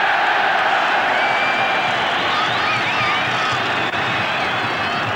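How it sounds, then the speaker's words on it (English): Football stadium crowd roaring in sustained support of Northern Ireland during a 1982 World Cup qualifier against Israel, a dense, loud wall of cheering and whistles filling the whole stretch without a break. "The crowd already vociferous in their support of this Northern Ireland team."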